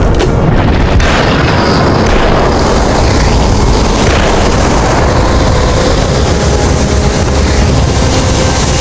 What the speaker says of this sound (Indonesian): Ledakan tangki nitrogen cair.